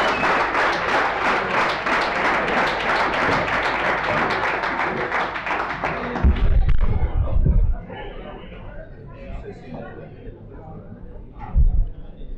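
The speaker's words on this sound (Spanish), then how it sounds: "Un fuerte aplauso" Sustained applause from an audience at a homebrewing competition awards gala, dense steady clapping for about six seconds that then cuts off, followed by low murmuring and a couple of bumps.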